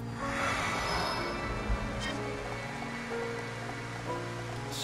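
Rain falls in the video game Xenoblade Chronicles as a steady, dense hiss over a low continuous rumble, with no voices.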